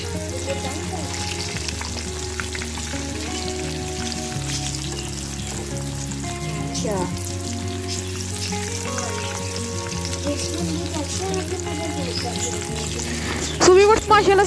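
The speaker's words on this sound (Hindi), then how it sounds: "स्लो फ्लेम पर हम इसको फ्राई करेंगे ताकि अंदर से अच्छे तरीके से ये पक जाएं" Chicken kebabs frying in oil over a slow flame, giving a steady, close sizzle that runs evenly throughout with a few faint scraping touches near the end.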